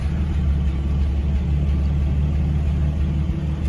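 A 1949 Special Deluxe engine, a 6-volt car, runs with a steady low idle rumble throughout, close and even, with no voices.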